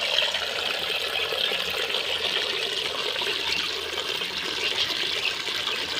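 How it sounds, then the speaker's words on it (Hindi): Water runs steadily on a farm, a constant broadband rush and trickle like a hose or pipe outlet filling, close and continuous with no talk. "ये आ रहा पानी।"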